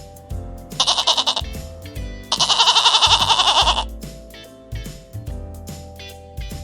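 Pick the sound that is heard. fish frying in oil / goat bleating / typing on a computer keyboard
goat bleating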